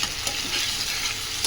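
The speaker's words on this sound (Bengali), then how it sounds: "মশলাটা কষানো হয়ে গেছে, এবার সেই ভেজে রাখা মাছগুলো আগে দিয়ে দিলাম। মাছগুলো দিয়ে আগে একটু আমি কষিয়ে নিয়েছি।" Tengra fish stirred and frying in spice paste in a pan, a steady close sizzle with scraping stir strokes throughout, no talk.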